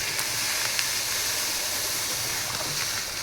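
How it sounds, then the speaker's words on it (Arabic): A pot of water for homemade honey syrup comes to a boil, giving a steady close hiss and bubbling rush with faint irregular pops and no speech over it. "غير نشوف الماء بدا يغلي نحط كميه السكر اللي عندي"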